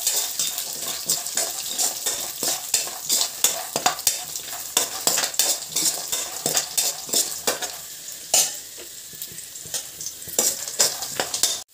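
Peanuts fry and are stirred in a pan for popped flattened rice, a steady bright sizzle broken by many sharp spatula scrapes and knocks, close and alone throughout.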